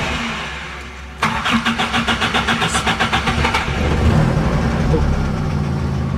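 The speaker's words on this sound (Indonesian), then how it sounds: "Bisa sih langsung starter, nggak terlalu lama, langsung dia langsung hidup ya" A Toyota Kijang Kapsul engine cranks with a rapid, rhythmic starter whirr for a couple of seconds, then catches and settles into a steady, rough idle, close and loud, with a voice speaking faintly over it.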